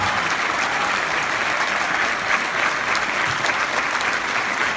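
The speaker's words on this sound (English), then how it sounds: "they're standing up and applauding you" A standing conference audience keeps up a sustained ovation for Edward Snowden after his Skype appearance. The full, unbroken clapping stays loud and close throughout, with faint crowd murmur.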